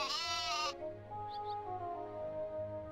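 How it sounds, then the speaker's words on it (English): A sheep in a farming video game gives one bright, close bleat, then falls quiet over soft game music. "Pet the sheepy."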